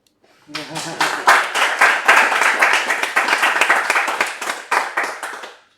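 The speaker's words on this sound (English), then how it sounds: "You may clap now." A small audience claps after a second-year university project presentation at a game developers' event: dense, steady clapping that starts abruptly, holds loud and close for several seconds, then tapers off, with a voice briefly audible at the start.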